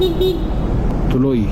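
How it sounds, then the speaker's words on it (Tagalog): A motorcycle horn toots in busy road traffic, a short honk followed by a second wavering blast over engine and road noise, while someone speaks briefly. "nag-iba yung tunog ng busina ko."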